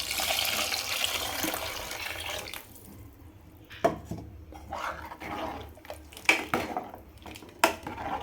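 Dissolved tamarind water is poured into a pan while a fish curry is being cooked, giving a close watery splash and trickle that fades, followed by clinks of utensils against the pan and drips.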